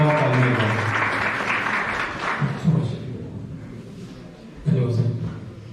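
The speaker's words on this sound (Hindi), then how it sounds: "जोरदार तालियां बजाएं।" An audience at a public event applauds in a dense spread of clapping that trails off, with a voice speaking over it and a couple of louder thuds.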